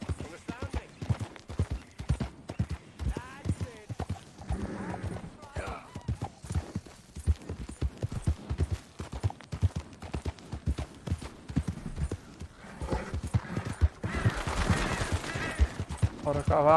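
Rapid, steady hoofbeats of a galloping horse in Red Dead Redemption 2 on Xbox One drum throughout, close and prominent, with occasional brief bursts of other game effects over them.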